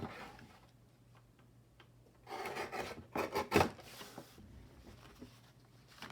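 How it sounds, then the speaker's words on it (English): A paper folder edge is trimmed: a short burst of rasping, ticking cuts close by, about a second long in the middle, with quiet room tone before and after. "I'm just gonna trim this whole line just a tiny bit there because I don't wanna see that"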